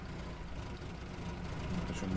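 Vehicle engine running steadily in Arma 3, a low continuous rumble held at moderate level throughout, with people talking over it.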